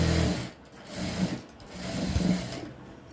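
Sewing machine running in short bursts while stitching the side seams of a blouse sleeve, with a steady mechanical whir that pauses and restarts a few times, close and fairly loud with no talking.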